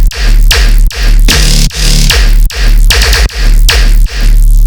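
A layered synth bass patch triggered from a MIDI rack plays a loud, heavy electronic pattern with repeated punchy, distorted hits in a steady rhythm.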